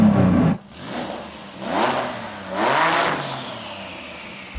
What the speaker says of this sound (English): now Saeed is going to rev up that monster.